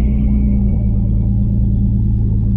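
The engine of a homemade supercar pulls away in first gear with a loud, steady low rumble and a drone that shifts slightly in pitch, heard close up with no talk.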